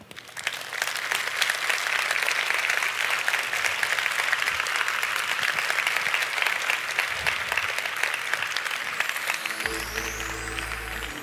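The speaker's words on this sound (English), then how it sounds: "Let's give Professor Lyle another big round of applause." Sustained applause from a conference audience for a professor after his talk, a dense steady wash of clapping that holds for about ten seconds before a low hum comes in at the end.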